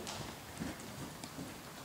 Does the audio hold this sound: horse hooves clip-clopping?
yes